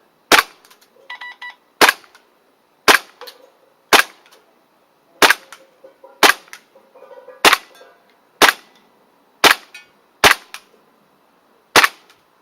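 WE/Cybergun Desert Eagle gas blowback airsoft pistol fired outdoors at metal plates, eleven sharp, loud shots at irregular one-second spacing, some followed by faint metallic ringing from the targets.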